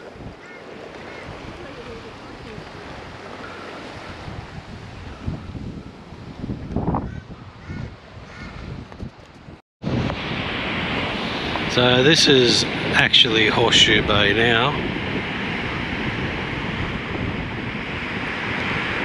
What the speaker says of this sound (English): And there's copping the wind, no end, and the waves are just ripping in.